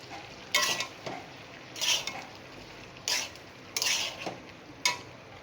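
Spoon scraping and stirring bottle gourd with fried prawns in a pan, five distinct bursts of scraping strokes spaced about a second apart over a faint background hiss.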